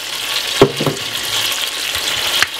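Pepper, carrot, onion and dry thyme sizzle steadily in a pan, with a few sharp knocks and scrapes from stirring on top of the constant frying hiss.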